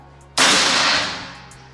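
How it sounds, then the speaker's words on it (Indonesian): A single sharp crack from an SR38 PCP air rifle, close and loud, followed by a short fading tail. "Tembakan ketiga unit SR38."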